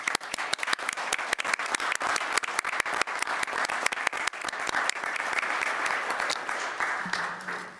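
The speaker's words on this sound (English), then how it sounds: "I think that deserves a round of applause, though." A county board audience claps warmly at a New Year's meeting, dense applause of many hands running steadily throughout before tapering off near the end.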